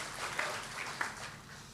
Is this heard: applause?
yes